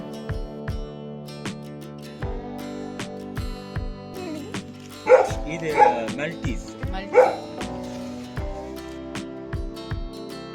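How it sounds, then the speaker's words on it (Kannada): Several dogs, Mudhol hounds and beagles, bark and yip in repeated bursts, some close and loud, with whimpering between and people talking over them. "ಮುದೋಳ್ ಬೀಗಲ್ ನೋಡ್ಬೋದು ಇಲ್ಲಿದೆ"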